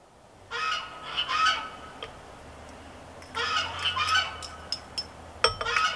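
Geese honk in two loud clustered bursts of overlapping calls, then a few scattered single honks, over a quiet low background hum.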